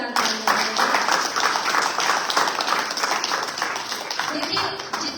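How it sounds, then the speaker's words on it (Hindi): An audience clapping at a Shrimad Bhagwat religious discourse, a dense, continuous round of applause from a large crowd throughout, with a voice speaking over it. "एक बार हमारे समस्त श्रोताओं के लिए जोरदार तालियां बजाइए।"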